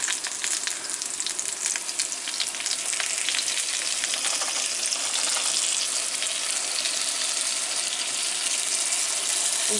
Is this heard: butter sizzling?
yes